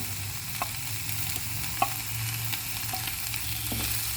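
Chopped fenugreek leaves fry gently over low heat in a pan, giving a soft continuous sizzle broken by a few light scrapes and taps of stirring.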